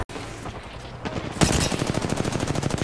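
Rapid automatic gunfire in the battle royale shooter Apex Legends, a burst of dense, evenly spaced shots starting after a quieter stretch and continuing loud and close to the end.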